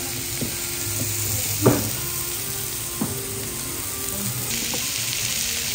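Steak sizzles with a steady, close frying hiss. A few faint pops and clinks break in at intervals, and the sizzle carries on without talk.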